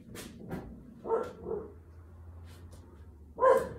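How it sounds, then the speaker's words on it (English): A dog barks a few times at close range, short sharp yips spaced apart, with a louder bark at the end over a low steady hum. "I don't know what he's barking at"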